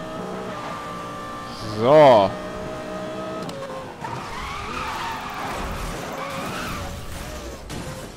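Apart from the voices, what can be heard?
car drifting and skidding in Need for Speed Most Wanted video game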